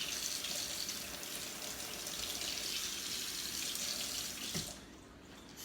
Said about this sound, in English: Let me rinse that.